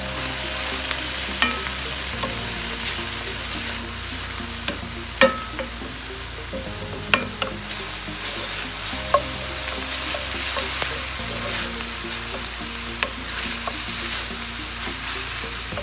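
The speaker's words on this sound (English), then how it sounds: "Now begin to let the garlic cook and brown, and then I'll go in with my broccoli." Garlic sautés in oil in a pan as a base for broccoli, with a steady close sizzle and frying crackle throughout and occasional sharp clicks of a utensil stirring against the pan, no voices.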